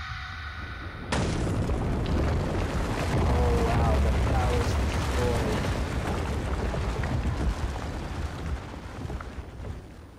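Heavy booming, rumbling crush in Alice: Madness Returns as Alice destroys a heart, a sudden loud onset swelling into a sustained roar that slowly fades.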